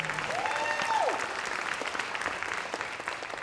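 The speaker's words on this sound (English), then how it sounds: "So a round of applause for Elizabeth" An audience at a wearable art show in Ketchikan claps steadily in a round of applause, a broad even wash of hands with a faint voice near the start.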